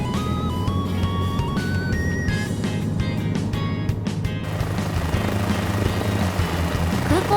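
A Cabri G2 helicopter flying in Microsoft Flight Simulator 2024 gives a steady, loud rotor and engine drone throughout, with a series of rising tonal steps in the first few seconds before the drone continues alone.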